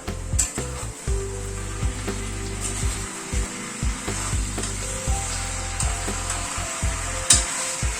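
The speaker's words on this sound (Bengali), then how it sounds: "চিকেনটা অনেকটাই কষানো হয়ে এসছে। আর 2-1 মিনিট একটু নাড়াচাড়া করে নিলাম।" Chicken sautéing in a pan over a medium gas flame, a steady close sizzle broken by repeated scraping stirs of a spatula at an irregular rhythm, with no talking.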